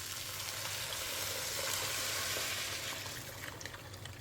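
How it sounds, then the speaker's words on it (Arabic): Boiling water poured into a pot of frying chicken, rice and spices, a loud, continuous sizzling hiss with bubbling that rises and then slowly settles. "نضيف المي المغلي"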